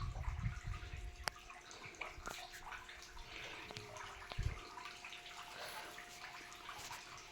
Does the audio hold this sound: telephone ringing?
no